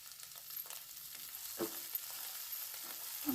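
Thecha with turmeric and salt fries in a pan, a quiet continuous sizzle broken by a few soft scraping stirs of a spoon.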